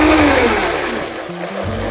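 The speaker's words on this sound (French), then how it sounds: "placer directement dans le mixeur" A kitchen blender whirs loudly through a simmered tomato-style sauce with the bay leaves removed, the motor pitch shifting and dipping briefly as the thick mixture churns, with no voices.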